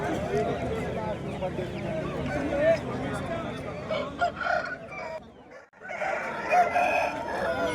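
Rooster crowing at Pebbair weekly market, a long call rising over a busy crowd with steady chatter and babble around it, a brief lull midway before the noise returns.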